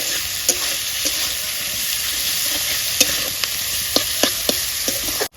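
Octopus pieces sizzle loudly in a hot pan with salt while being stir-fried, with a steady frying hiss and sharp scraping clicks of the spoon against the pan at irregular intervals.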